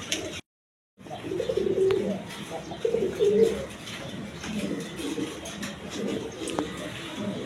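Low, soft Shirazi pigeon coos repeating in short rolling phrases, close by, over faint background noise after a brief silent gap at the start.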